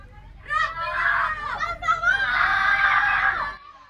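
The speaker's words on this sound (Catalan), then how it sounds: "Aquests són els nervis i els crits de pànic dels passatgers que veien com el comboi s'acostava de cada vegada més al foc." Panicked screams and shouting from passengers aboard a Renfe train between València and Zaragoza as it nears a wildfire near Begís; overlapping high, strained voices cry out continuously and close by for about three seconds before cutting off.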